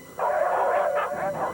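Dogs give a quick run of excited yips and barks, close and loud, lasting just over a second.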